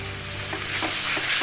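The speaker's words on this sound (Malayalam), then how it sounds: "ഈ സവാളയും ചെറിയുള്ളിയും പച്ചമുളകും കറിവേപ്പിലയും ഒന്ന് വഴന്ന ശേഷം നമുക്ക് 2 ടേബിൾ സ്പൂൺ വെളുത്തുള്ളി ഇതിലേക്ക് ആഡ് ചെയ്യാം." Crushed garlic added to onions, shallots, green chillies and curry leaves frying in a pan for a Kerala chicken curry, a loud close sizzle with brief stirring scrapes, no voices.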